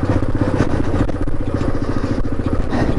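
A car drives along a narrow tarmac country lane, a steady close engine drone with rhythmic tyre rumble and light clatter from the road surface.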